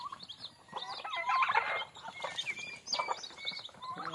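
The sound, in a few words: turkeys gobbling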